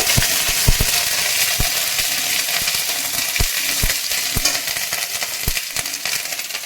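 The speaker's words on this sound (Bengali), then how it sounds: "আদা বাটাটা এবার আমরা দিয়ে দিচ্ছি ভালো করে নেড়ে নেব" Ginger paste fries in a pan with a loud, steady hissing sizzle, punctuated by quick scattered clicks and scrapes of a spatula stirring it, close up and with no one talking.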